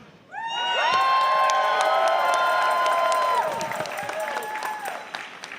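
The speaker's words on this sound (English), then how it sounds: "send them your love with a big cheer" A convention audience at an opening session bursts into cheering and applause, with loud sustained whoops and shouts over dense clapping for a few seconds before it gradually tapers off.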